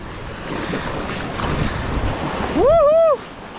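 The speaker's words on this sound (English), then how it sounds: "Let's try to just catch the waves in." Ocean waves and wind rush steadily around a small boat riding the surf back in to a spring break beach, with a short tonal whoop-like sweep near the end.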